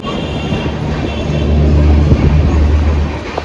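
An idling train stands at the platform at Jalandhar station on the New Delhi to Amritsar run, giving a steady low engine hum with a broad rumble. The hum swells slightly midway and continues unbroken.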